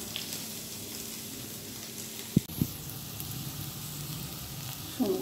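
Food frying in a pan for a home-cooked Bengali breakfast, a steady soft sizzle running throughout with a couple of brief clinks near the middle and a faint stir at the end.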